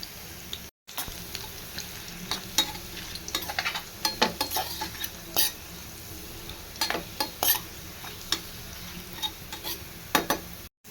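Onion-free aromatics for an egg masala curry sizzling and frying in a pan until golden, with steady crackle and a series of sharp stirring scrapes and ticks against the pan, close and alone.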